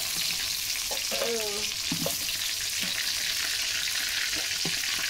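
Chicken pieces fry in hot oil with a loud, continuous sizzle, while a ladle scrapes and clinks a few times as it lifts the meat out of the pan.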